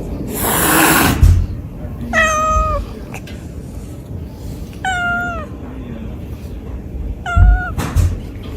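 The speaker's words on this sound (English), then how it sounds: "Oh my god, that cat might be bipolar." A cat meows loudly and close up in several separate rising-falling calls spaced a few seconds apart, with a burst of noise at the start and soft background sounds between calls.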